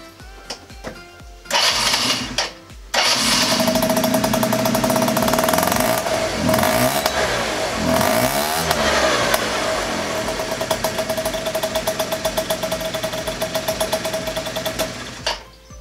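A Keeway motorcycle engine cranks, catches after a couple of short attempts, then runs loud and steady with a buzzing idle and a few revs, close by and with no talk.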